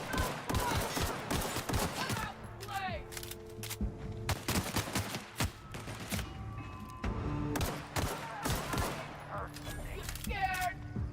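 Rapid video game gunfire, with clusters of sharp, close shots and short bursts spread across the clip, layered over game music and effects, with a voice speaking at moments.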